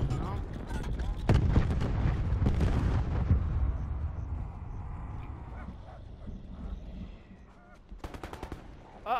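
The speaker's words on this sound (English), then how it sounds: "I'm gonna throw a grenade in this little house just to see." A grenade tossed into a small house during a Call of Duty Black Ops Blackout match, with loud gunfire and blasts up front that fade into quieter rumbling before sharp shots return at the end; a voice talks over it.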